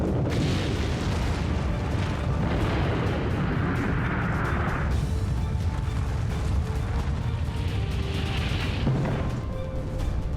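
Roaring blast of a nuclear bomb detonation in test footage, a continuous loud rumbling boom with crackling bursts that fills the whole stretch without letup.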